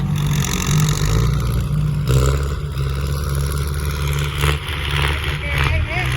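A farm tractor works a muddy excavation pond site, its engine rumbling loud and close with surging revs and clattering, while people shout and talk over it.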